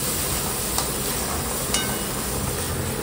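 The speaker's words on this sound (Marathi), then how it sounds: "चणे छान ढवळून मसाल्यासोबत एकजीव करून घ्यायचे आहेत" Boiled black chickpeas being stirred into oily, sizzling masala in a pan: a dense, even hiss of frying with a few faint scrapes of stirring, loud and close, without speech.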